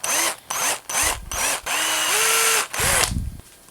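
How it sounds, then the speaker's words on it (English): A power drill bores a small hole into a wooden bass lure, sounding in short repeated bursts of whining motor spin-up and cutting, with close, loud pauses between them and one longer continuous run. "Now I just need to drill a much smaller hole just behind this for the other weight."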